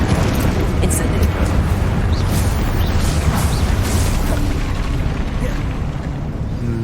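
Fiery blasts from the Confringo spell in the Hogwarts Legacy video game rumble loud and continuous, a dense wash of booms and bursts filling the whole stretch.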